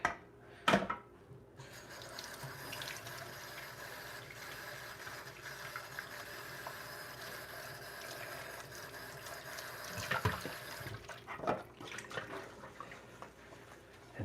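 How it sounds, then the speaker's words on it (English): A pan is washed out under running water after cooking eggs and hash browns, a steady broadband rush of water with a couple of brief clanks near the start and around the ten-second mark. "Fold the eggs on top of the hash browns and wash the pan out."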